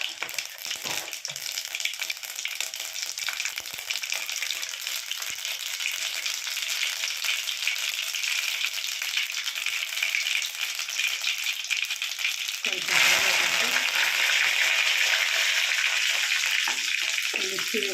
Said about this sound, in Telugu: ఒక పెనంలో ఆయిల్ వేసుకొని కొంచెం ఆవాలు వేసుకొని